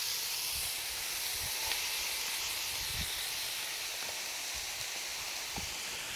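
Onions dropped into a pan of nearly cooked ground beef give a steady, broadband sizzle, loud and continuous, with a few soft thumps from stirring beneath it.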